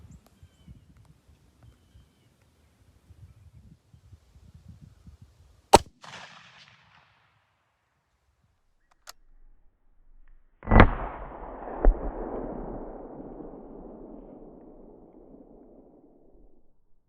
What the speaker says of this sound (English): And I'll be shooting this Ruger American Ranch.